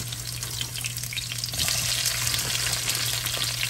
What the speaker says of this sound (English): And we're just going to stir fry them just like we did the other day.